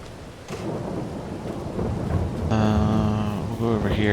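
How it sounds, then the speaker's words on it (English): Steady rain pours during a thunderstorm on a ranch, with a low rumble of thunder building beneath the hiss, plus a brief humming tonal sound near the end. "through the rain and the thunder"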